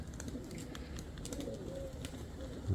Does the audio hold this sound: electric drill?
no